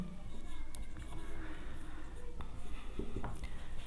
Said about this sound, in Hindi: उत्तर यहाँ लिखेंगे हम।